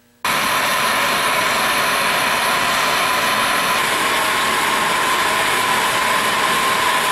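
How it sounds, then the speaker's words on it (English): Loud, steady roaring hiss of a propane torch heating a part for a homemade gold ore jaw crusher, igniting abruptly at the start and burning continuously close by with no talk. "we're going to go ahead and use a propane torch to heat this up a little bit"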